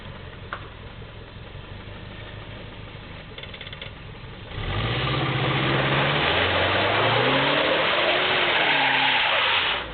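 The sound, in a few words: car engine revving, possible rod knock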